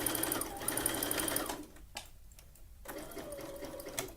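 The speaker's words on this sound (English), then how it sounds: "using my left hand to guide the fabric and the elastic into the sewing machine" A sewing machine runs with a steady whirring stitch through fabric and elastic, pauses briefly with a few clicks, then starts up again.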